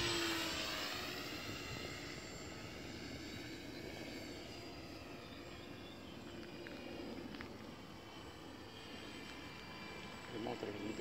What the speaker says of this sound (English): The motor is a little bit rusty, not probably some ball bearing.